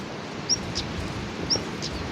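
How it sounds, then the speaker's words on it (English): Stonechat, a small upland coastal bird, giving two short sharp calls about a second apart over steady wind or stream noise on an open hillside trail. "There's one of the wee birds, stone chat."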